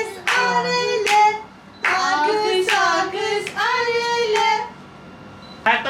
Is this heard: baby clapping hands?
yes